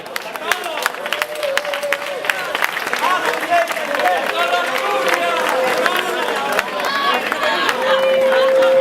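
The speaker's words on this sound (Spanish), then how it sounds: "un aplauso para la organización de Mieres" Crowd applause at a 15M demonstration in Mieres, a sustained wash of clapping mixed with cheering and crowd chatter, with a whistle-like tone sounding near the end.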